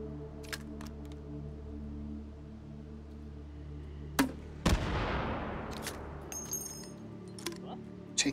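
Grenade blasts in the VR shooter Hot Dogs, Horseshoes & Hand Grenades: a few sharp bangs mid-clip, one followed by a long rumbling decay, with scattered lighter gunshot cracks over a steady background hum.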